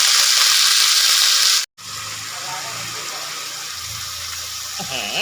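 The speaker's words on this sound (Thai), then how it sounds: "ฝักเพกาเราก็จะโงยตุ๊บลงไปในกระทะนะครับ แล้วก็ผัดผัดผัดผัดครับ" Indian trumpet tree pods stir-fry in a hot wok, making a loud steady sizzle. A brief pause breaks it before the frying returns, with stirring scrapes and some low background sound.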